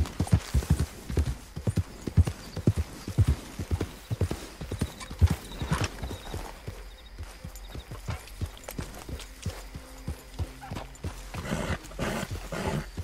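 Horse hooves gallop in Red Dead Redemption 2, a steady loud clip-clop rhythm up close with an occasional whinny, continuing alone through the whole stretch.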